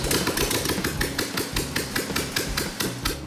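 A turnkey custom car engine idles steadily nearby, its loud, rapid, even mechanical beat with a repeating tick running throughout, and no voices.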